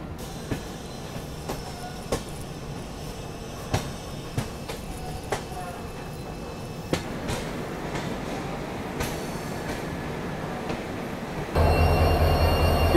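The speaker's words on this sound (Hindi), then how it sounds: "अपनी भी जो ट्रेन है यहाँ पर रिवर्सल लेके वापस जा रही है" A Jabalpur–Somnath Express train runs at Somnath station, with a steady rumble and rhythmic wheel clicks heard from onboard, then a louder surge of rolling noise near the end.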